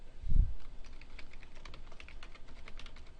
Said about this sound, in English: typing in their email